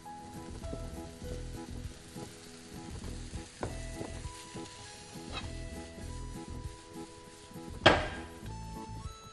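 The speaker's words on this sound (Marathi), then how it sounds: "त्याचवेळेस आपण आपले भिजवलेले सोया चंक्स पॅनमध्ये टाकू शकतो." Soaked soya chunks sizzle in a pan, giving a quiet, steady frying crackle broken by occasional stirring and scraping knocks, with one sharper clatter near the end.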